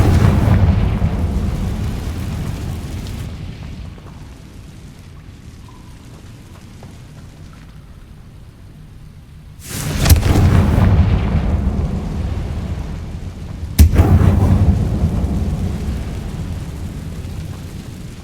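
Explosions from the Confringo spell in Hogwarts Legacy come as two loud, rumbling blasts with noisy crackling tails over a low ambient rumble, with a quieter stretch before the first.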